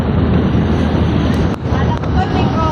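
Wind and ocean waves buffet a boat during island hopping off Boracay, a loud continuous rush of wind noise and water over the whole stretch, with a brief dip partway through.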